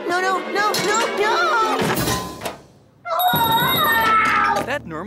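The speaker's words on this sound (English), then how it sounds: "That Nermal's bell ringing?" A cartoon bell rings in a Garfield episode, a bright tonal ringing with steady sustained overtones that starts after a short lull, following a thump and animated voices and music.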